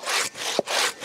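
A Fanno K24 self-cleaning 23.5-inch hand saw rasps through wood in three broad, loud strokes with brief pauses between them and a small knock in the middle. The strokes are close and steady, with nothing else heard.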